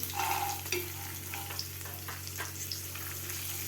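Peanuts, grated ginger, green chillies and dried red chillies frying gently in oil on low heat for lemon rice, giving a steady soft sizzle with a few light stirring scrapes, close and alone without voices.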